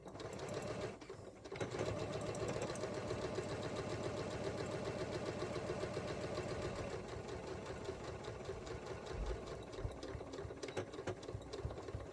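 A sewing machine chain-stitching fish fabric quilt squares runs in a fast, steady mechanical rattle after a short pause near the start, continuing evenly and close by with no talk.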